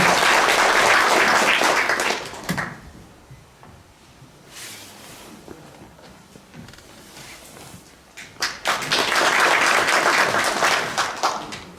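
An audience at a Korean public forum on energy transition in Yeonggwang claps loudly to welcome a speaker. A burst of applause fades out, then a second strong round swells near the end, with some shuffling between.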